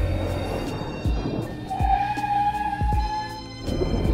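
A Honda ADV 150 scooter skids under hard rear braking, with a thin tire squeal rising midway over rumbling road and engine noise.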